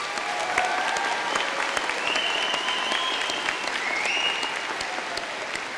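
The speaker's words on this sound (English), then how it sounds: "Please give him a round of applause." Steady applause from a graduation ceremony audience fills the room, dense even clapping holding at a loud level throughout without a break.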